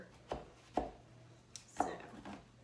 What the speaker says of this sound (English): giving it a good chop down the center so I can open it up.